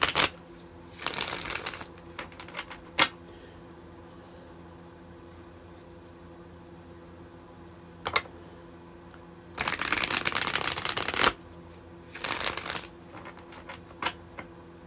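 Tarot cards being shuffled in several separate bursts, quick papery riffles close to the microphone with quiet pauses and a single sharp snap between them, and no talking over them.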